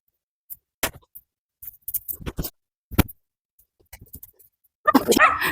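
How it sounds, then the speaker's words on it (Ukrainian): Dogs in a rural garden bark in scattered sharp bursts, a few single yaps and short clusters spaced by silence, then a louder, longer run of barking and yipping toward the end. "Якщо вам цікаво, чого так гавкають собаки"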